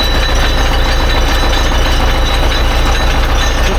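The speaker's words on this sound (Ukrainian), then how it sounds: "Включаємо шостку, гуде трохи." An MTZ tractor engine runs in sixth gear, a loud, steady, continuous drone with a low hum and a faint whine throughout.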